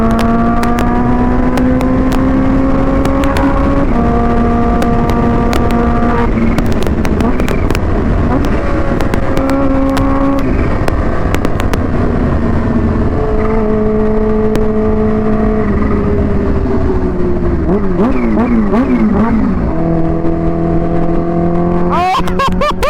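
Supercharged stage 3 Kawasaki Ninja H2 motorcycle, tuned to about 300 bhp, revving loudly and continuously on the road, its whining engine note rising and falling through repeated gear changes, with scattered sharp pops; a rider's excited voice sounds over it at times.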